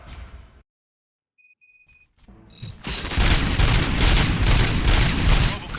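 After a near-silent pause and a few electronic beeps, a burst of rapid gunfire erupts and keeps going, loud and dense, like an automatic weapon, in the video game Robocop: Rogue City.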